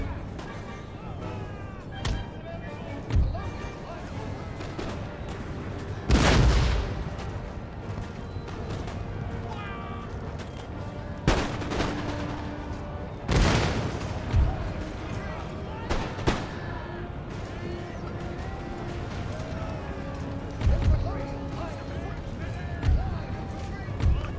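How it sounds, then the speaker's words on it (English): Cannon fire in the Empire: Total War battle game, buccaneers against colonial militia: scattered deep booms and sharp cracks at irregular intervals, several loud blasts over a continuous low battlefield din, with someone talking over it. "Come on, cannons. Can do a better job than that."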